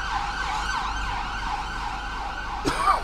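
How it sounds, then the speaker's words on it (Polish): A wailing ambulance siren sounds steadily on a street, loud and sustained, with a brief clatter near the end. "Słyszę, że jedzie pogotowie"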